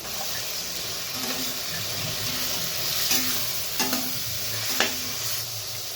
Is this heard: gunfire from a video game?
no